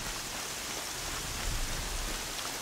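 Steady rain in Horizon Zero Dawn, a dense, even hiss of falling water with a low rumble underneath, continuous and loud throughout with no pauses.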